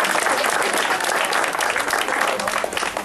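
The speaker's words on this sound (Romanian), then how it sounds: "Să aplaudăm!" Loud, dense applause from a crowd at a school competition, cheering on participating schools, a continuous close wash of clapping that holds steady for three seconds.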